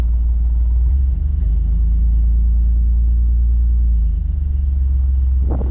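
A Chevrolet Blazer engine idles steadily and loud in close range after earlier misfiring, a deep even rumble with a slight dip near the end and a brief rise at the close.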